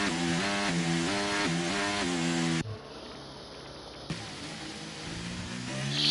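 A race car in a racing game with a failing gearbox whines and buzzes loudly, its harsh tone breaking off abruptly partway through, then returning rougher and rising toward the end.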